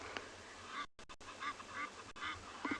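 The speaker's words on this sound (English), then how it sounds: "That's not the hippo. That's the Egyptian geese. Yes, they're very noisy." Egyptian geese call at a dam at sunset on a safari, with several harsh, honking cries from nearby birds against a quiet outdoor background, broken by a brief dropout.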